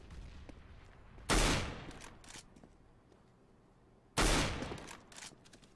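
Gunfire from a Counter-Strike match on the de_dust2 map in a Na'Vi vs SK showmatch, likely a scout sniper rifle: two loud, sharp shots about three seconds apart, each followed by a fading echo over quiet game ambience.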